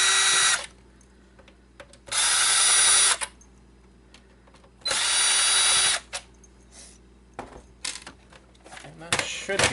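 A power screwdriver whirs in two long bursts while driving screws into a PlayStation 3 Super Slim console, followed by a third burst and then scattered clicks and handling noises near the mic.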